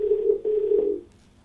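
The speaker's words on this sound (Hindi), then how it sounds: "तो दोस्तों अपने कार्यक्रम की शुरुआत करते हैं और फोन लगाते हैं अमरीश जी को" A telephone call being dialed on a Hindi call-in television program, heard as a steady ringback-style tone in pulsing segments for about a second, then fading to quiet line hiss.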